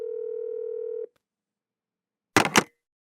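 A telephone plays a steady dial tone for about a second before a call, then goes quiet. Two short, sharp dialing beeps follow close together.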